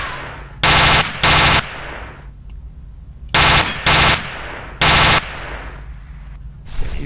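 An enemy soldier in the video game F.E.A.R. lays down covering fire: five loud, close bursts of automatic gunfire, each lasting about half a second, separated by pauses with a low rumbling ambience.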